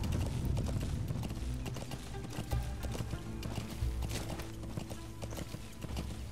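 Horse hooves clip-clop steadily in Metal Gear Solid 5, a dense run of hoofbeats with occasional whinnies over a busy game soundscape with music and mechanical noise, close and fairly loud.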